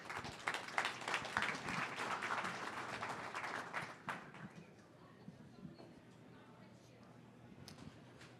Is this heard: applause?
yes